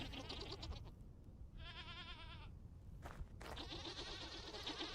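Goats in Vintage Story bleat in a few separate wavering calls over a dense rustling background, with a sharp click partway through.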